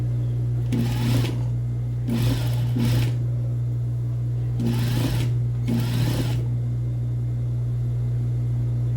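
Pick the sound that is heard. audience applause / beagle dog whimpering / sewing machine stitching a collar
sewing machine stitching a collar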